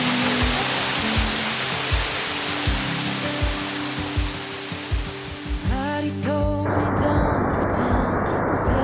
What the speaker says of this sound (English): It was a really awesome waterfall, probably one of the coolest I've seen